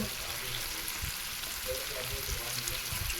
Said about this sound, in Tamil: நல்லா வசக்கி விட்டுருங்க கழுவி வச்ச கத்திரிக்காய் அதில் சேர்த்துக்கோங்க